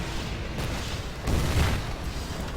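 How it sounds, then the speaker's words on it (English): In the Rise of the Reds strategy game, a tank blows up with a heavy booming explosion that swells and rumbles low, sitting amid continuous battle noise with no talk over it. "What kind of a huge explosion was that? Oh, just the tank blowing up."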